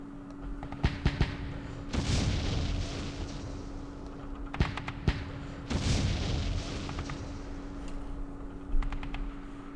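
Mortar fire in the war video game Campaign Series Vietnam, set at Dien Bien Phu: several fairly quiet distant booms with sharp crackling reports scattered among them over a steady low hum, without speech.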